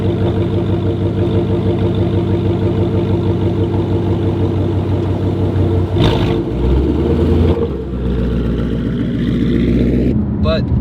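A Ford Mustang with an aftermarket exhaust runs loud and close, its engine droning steadily and then revving, with the pitch shifting around the middle and again near the end.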